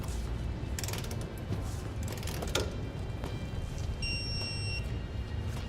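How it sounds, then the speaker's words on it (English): A ratchet wrench tightens a jounce bumper bolt on a 2009 Ford F-150 while air helper springs are installed, giving steady mechanical clicking and creaking against a constant noisy background. "Now we're going to tighten our Jounce bumper bolt back down."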